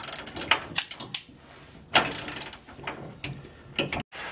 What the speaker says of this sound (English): you want to have one person turning the socket and another holding the wrench in place